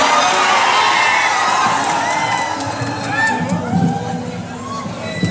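A loud crowd at a Bhojpuri stage show cheers, shouts and whoops, with high children's voices mixed into a dense, continuous roar.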